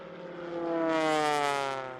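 A 90% scale replica Spitfire with an all-new engine passes overhead, its propeller drone rising as it nears, peaking, and fading slightly, with steady harmonic tone throughout.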